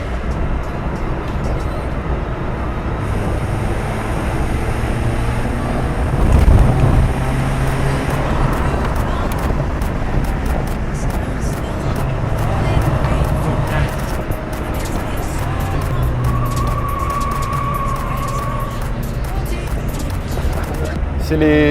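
Small Italian car on snow tyres driving and overtaking on a road, a steady engine and road roar with a swell as it passes, wind and tyre noise throughout, someone talking over it.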